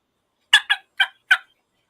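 Four sharp, rattling turkey gobbles blown on an Early Bird game call, loud and close, each short burst separated by brief gaps, with no talking over them.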